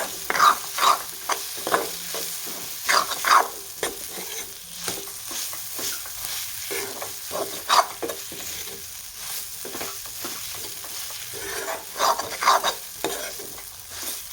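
Masala for a brinjal curry being stirred in a pan, with repeated scraping strokes of a spoon over a soft, steady frying sizzle, close and moderately loud, with no talk.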